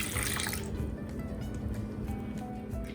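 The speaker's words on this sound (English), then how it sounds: "Then add a half cup of water." Half a cup of water is poured onto crushed strawberries in a bowl for a pie glaze, giving a soft, close, wet splashing and squishing that fades after the first moment.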